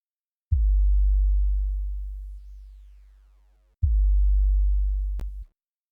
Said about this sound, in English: this patch is a single oscillator sine wave. This is the sub layer.